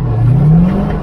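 A car engine revs hard under throttle during a drift lesson, a loud, close, rising drone held for about a second with no talk over it.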